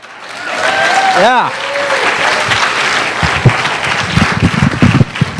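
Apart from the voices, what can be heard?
audience applause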